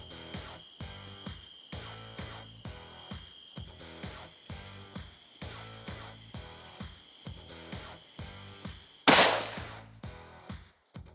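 A single loud, sharp gunshot cracks nearby during an evening hog hunt on a plantation. It cuts through a steady, rhythmic pulsing sound late in the clip, and quiet follows.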